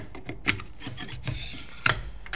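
Threading an A5 barrel insert onto a paintball barrel adapter, heard as a few short, close scraping and rubbing twists with small clicks, quiet and with no talking.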